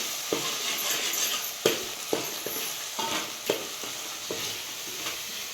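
Masala spices stir-fried in a pan while making traditional khengat, a steady close sizzle broken by repeated sharp scrapes and taps of a spoon stirring against the pan.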